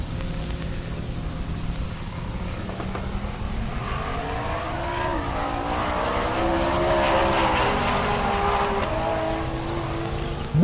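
Drag race cars at Rocky Mountain Race Week launch down the quarter mile, a loud roar of engines with climbing, shifting pitch sweeps over a dense noisy rumble.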